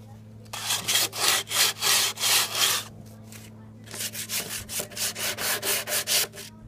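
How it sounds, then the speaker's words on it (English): Sandpaper rubbing back and forth on the wooden box of a DIY dog bed: two runs of quick, rhythmic strokes split by a short pause, close and clear over a steady low hum. "So I'm just going to go ahead and sandpaper it."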